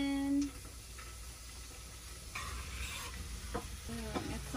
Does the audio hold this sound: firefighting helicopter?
no